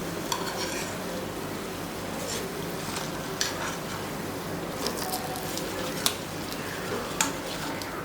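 Vada fry in hot oil with a steady, close sizzle and bubbling, plus occasional sharp clicks from a utensil against the pan, alone without talk.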